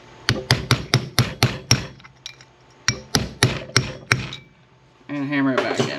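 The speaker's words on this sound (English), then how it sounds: "And hammer it back in." A bearing is driven back into place on an upgraded crazy cart by hammering a socket. Two bursts of sharp metallic hammer blows are heard up close, about six quick strikes and then five more, with a voice speaking at the end.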